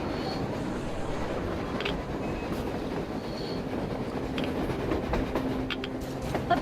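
A train rumbling past on the surface in the game Metro: Exodus, a dense, steady low roar with faint squealing wheel tones and a few sharp clanks, with no talk over it.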